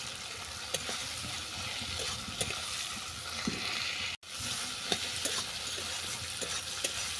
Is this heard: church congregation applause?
no